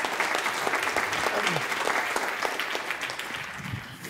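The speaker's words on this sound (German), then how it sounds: "Applaus an Tim" Audience applause for Tim at a German creators' loft gathering, a dense, steady wash of clapping that stays fairly loud throughout before thinning slightly near the end.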